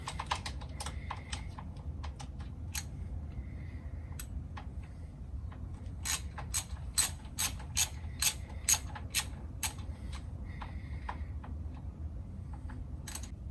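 Ratchet wrench clicking as it undoes bolts on a 2004 KTM SXC 625 LC4 motorcycle during an oil change, with scattered sharp clicks early on, then a steady run of loud, evenly spaced ratcheting clicks, close by over a low background hum.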